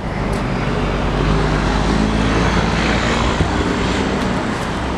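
A 1999 Honda GL1500 Valkyrie trike with its 1500 cc flat-six Goldwing engine, a loud, steady, continuous low engine rumble and drone heard close up with no talking.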